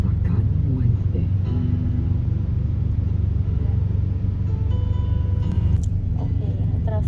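Road traffic heard from inside a car: a constant low engine and road rumble that fills the cabin, with voices talking faintly over it.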